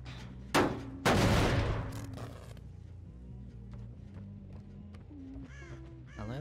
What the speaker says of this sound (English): And I am spooking all the crow birds.